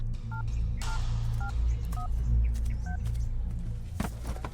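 A telephone keypad is dialed in a comic fight scene, with a string of distinct two-tone beeps spaced about half a second apart over steady background music and room noise.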